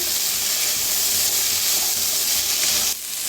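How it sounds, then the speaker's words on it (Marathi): Fresh green peas are stirred and roasted in a hot pan, giving a steady close sizzle and hiss with faint scraping from mixing. "आता मिक्स करून भाजून घेऊया दोन्हीला बी।"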